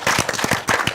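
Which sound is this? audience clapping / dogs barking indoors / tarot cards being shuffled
audience clapping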